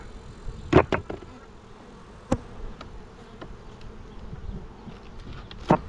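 Honey bees buzzing around hive boxes outdoors during a summer honey pull, a low steady drone of many insects broken by a few sharp knocks and thumps as bees are shaken from a box.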